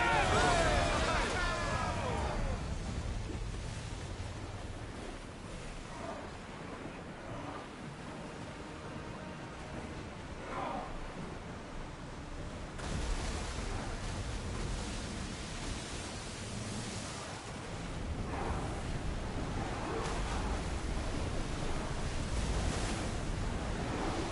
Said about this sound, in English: Whoa! Feel that wind!